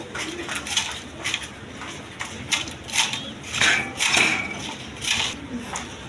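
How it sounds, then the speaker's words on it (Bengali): Pigeons kept as pets, including two females, coo in soft, repeated bursts close by, with light rustling and knocks between the calls. "বন্ধুগণ এখানে দুইটা মাদি কবুতর আছে"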